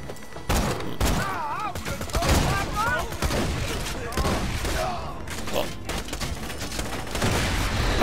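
Rapid gunfire in Borderlands 2 rattles in dense, repeated bursts with thuds and booms, continuing throughout while players talk over it.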